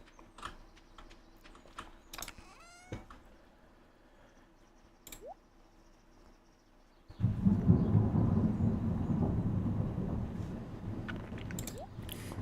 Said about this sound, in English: Big ol' thunderclap.